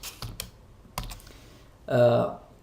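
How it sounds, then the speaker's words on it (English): A handful of separate keystrokes on a computer keyboard while entering Python code, quiet and spaced apart, followed by a brief burst of voice near the end. "So I'm gonna type print"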